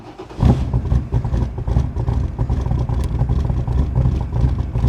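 A 1966 Shelby Cobra 427 cranks and fires up, its engine catching with a loud burst then settling into a rough, throbbing, uneven idle close by.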